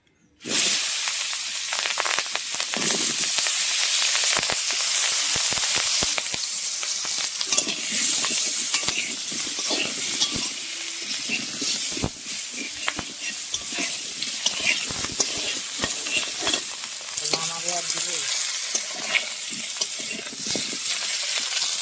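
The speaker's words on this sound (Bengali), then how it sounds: "বন্ধুরা মাছ ভাজার তেল আমার অনেকটা বেঁচে গেছে, এখানে আমি আলুগুলো ভেজে নেব।" Potatoes fry in leftover fish-frying oil in a village kitchen, a loud, continuous hissing sizzle broken by frequent utensil clicks and scrapes, with a few brief louder clatters partway through.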